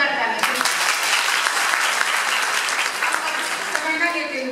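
An audience at a Premchand Jayanti literary event claps loudly and steadily for several seconds, a dense wash of applause that fades a little near the end, with voices mixed in.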